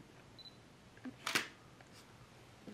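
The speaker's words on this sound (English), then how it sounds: "As soon as you click the shutter, boom, zoom." A single sharp camera shutter click, close and crisp, in an otherwise quiet room.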